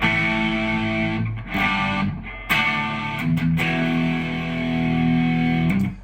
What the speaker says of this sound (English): I have a JTM 45 replica type overdrive from a Build Your Own Clone